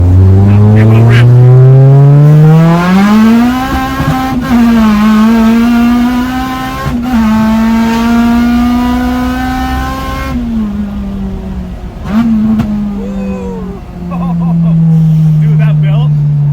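A supercharged Honda EK Civic time attack build accelerating hard, engine note climbing steadily through the gears with shifts and a loud, close, sustained roar over about sixteen seconds, easing off near the end.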